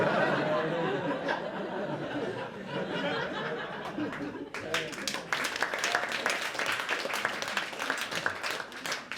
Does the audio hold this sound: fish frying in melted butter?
no